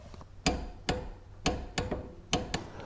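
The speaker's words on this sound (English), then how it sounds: "now we got the torque wrench set for 23 foot-pounds" A torque wrench clicks repeatedly while tightening a brake caliper bolt to 23 foot-pounds during a sticky caliper repair: six or seven sharp, close, fairly loud clicks in an uneven rhythm over a low background.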